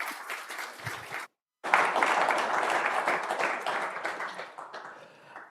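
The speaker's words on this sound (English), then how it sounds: "Can we give Raphael another round of applause, please?" Audience applause at a chemical engineering institution's presidential address, a full hall clapping loudly and steadily, briefly cut off and then resuming before tapering slightly near the end.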